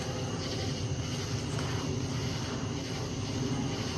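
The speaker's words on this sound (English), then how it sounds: "Of course, an airplane goes over." An airplane drones overhead on a hot summer night outdoors during a coon hunt, a steady broad rumble mixed with insect and cricket chirring, with no talk.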